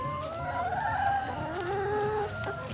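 Several hens cluck and warble close by on a farm in a soft continuous chorus, with a faint sharp tap near the end.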